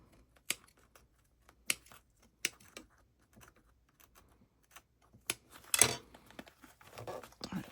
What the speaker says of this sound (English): There's a little snippy snip.